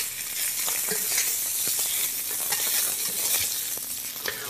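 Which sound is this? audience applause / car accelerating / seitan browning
seitan browning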